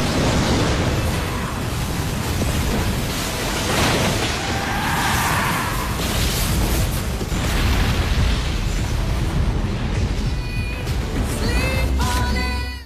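An explosion at a church in the 2021 film Luca, seen from a distance, rendered as a sustained, loud, rumbling roar with crackling debris and some mechanical clatter toward the end.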